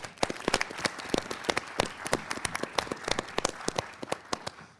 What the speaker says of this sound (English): Let's give our teams another big round of applause.